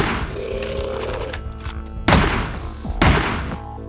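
Weapon reloading in the video game Teleglitch, a couple of sharp mechanical clacks and thuds spaced about a second apart over a background of game noise.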